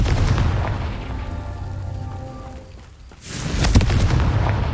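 A Confringo fire-blast spell in Hogwarts Legacy bursts in a loud rumbling boom, then a sharper second blast erupts and roars on, with no talk over it.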